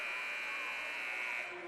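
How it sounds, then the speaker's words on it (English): A loud, sustained electronic buzzer sounds in a high school boys basketball gym as the quarter ends, holding steady for over a second before tapering off, with crowd noise beneath it. "Bo Schwartz, step back 3, knocks it down at the buzzer"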